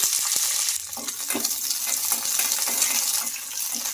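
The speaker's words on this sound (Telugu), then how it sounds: "మనం ఈ మిర్చిని ఫ్రై అయ్యే వరకు ఫ్రై చేసుకోవాలి" Green chillies frying in a spoonful of oil in a kadai, a steady bright sizzle with small crackles and occasional stirring clinks, close and continuous with no talk.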